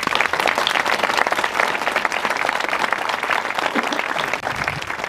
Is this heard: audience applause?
yes